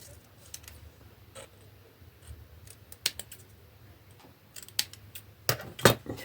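Scissors cut paper for a scrapbooking album in sparse, sharp snips close by, quiet between cuts and speeding into a quick cluster of louder clips near the end.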